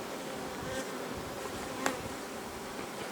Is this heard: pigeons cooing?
no